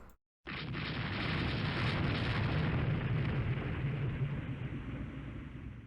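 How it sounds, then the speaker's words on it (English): A ship's magazine detonates in the naval strategy game Rule the Waves 2, a sudden loud boom that swells into a sustained roaring explosion for several seconds, with no talk over it. "Took out another one doing a magazine explosion."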